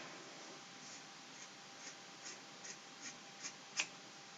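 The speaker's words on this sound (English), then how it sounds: "so I'll just grab the hair and begin to cut." Scissors snipping through hair during an at-home layered haircut, a series of soft crisp cuts at a steady pace, close and quiet over faint background hiss.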